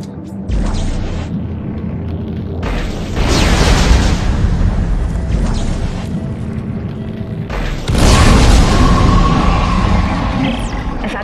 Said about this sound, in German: Die explodieren, wenn sie zu heiß werden.